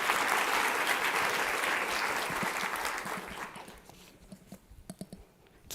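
At a food and agriculture policy summit, a crowd's dense applause rolls on steadily, then thins out and fades to a few scattered individual claps near the end.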